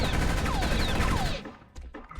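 Dense rapid gunfire rattles in the video game Space Beast Terror Fright as aliens are shot, a loud continuous burst with whistling streaks, then cutting off into a quieter tail with a few scattered shots.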